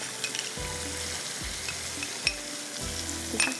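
Onions and spices, including turmeric and ground coriander, sauté in a pan for street-style yakhni, giving a strong continuous sizzle broken by several rhythmic low scraping stirs and a few sharp clinks of a spoon.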